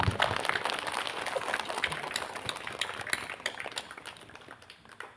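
Audience claps steadily after a sermon at an Islamic religious gathering, a dense, even patter of many hands sustained throughout and fading slightly toward the end.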